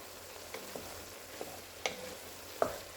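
Spicy chili meat cooking in a pot gives a quiet, steady sizzle with a few sharp utensil ticks and pops scattered through, close by and free of talk.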